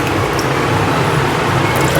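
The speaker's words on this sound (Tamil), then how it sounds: "கொஞ்சம் தண்ணி மட்டும் ஊற்றுவோம் இதுக்கு." Water poured into a cooking pot of squid with coconut, a steady close splashing pour running continuously without pause.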